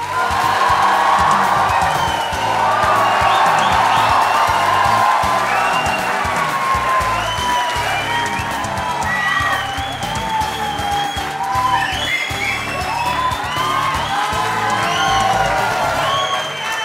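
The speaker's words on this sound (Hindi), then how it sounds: "और ये तालियां बजती रहने चाहिए" A large studio audience at a televised courtroom-style talk show applauds and cheers for a cricket star's entrance, loud sustained clapping with whoops and shouts rolling on without a break.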